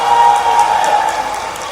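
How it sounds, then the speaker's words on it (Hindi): An audience of farmers at a rally claps in a dense, steady patter of applause that fills the space, continuous and fairly loud, with no voices standing out. "आपने पहले ही ताली बजा दी।"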